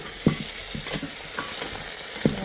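Lamb feet meat frying in a pan with tomatoes and spices, stirred with a few sharp utensil knocks against the pan over a steady low sizzle, up close with no talking.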